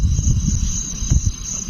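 Crickets chirping at night around a grassland campsite, a steady high continuous trill running throughout, with low wind rumble and handling noise underneath.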